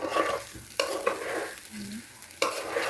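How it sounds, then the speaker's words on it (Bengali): Polao rice frying in a pan for chicken biriyani, with meat and potato being added, the spoon stirring and scraping in repeated strokes over a steady sizzle, close and clear. "পোলার চালটা অনেক সুন্দর করে ভাজা হচ্ছে"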